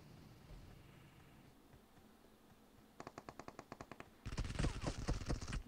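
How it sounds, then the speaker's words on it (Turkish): Gunfire from an elevated position in PUBG Mobile: after a low rumbling lull, a rapid string of sharp shots rattles out, then a louder, heavier burst of automatic fire closes in close and harsh. "Yukarıdan sıkıyorlar"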